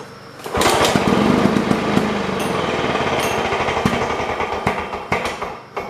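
A 1980s Lawnboy two-stroke commercial lawn mower starts after a brief pull and settles into a loud, fast rattling idle, close by, with faint sputters as it runs.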